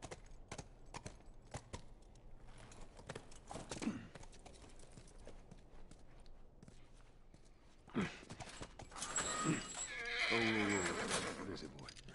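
A horse whinnies loudly and close near the end in The Last of Us Remastered, after quiet stretches of soft clicks, faint rustling and a few hoof-like knocks.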